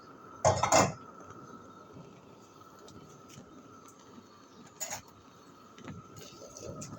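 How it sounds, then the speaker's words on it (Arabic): Ajwa dates are stirred in melted ghee in a metal pan, giving one loud scraping clink followed by a few softer taps and scrapes against a quiet room hum, with no voices. "بس نقلبها كويس بس عشان تتغلف كلها من السمنة"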